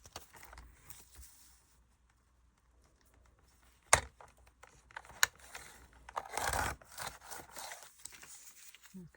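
Paper is cut for a small accordion-style journal, giving scattered close snips and crisp crinkling with quiet pauses between them, including a sharp click and a longer rustling burst near the end.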